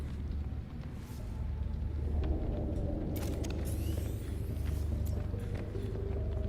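Seatruck vehicle driving in the video game Subnautica: Below Zero, a steady low engine rumble and hum running throughout, with occasional higher mechanical whooshes and clanks over it.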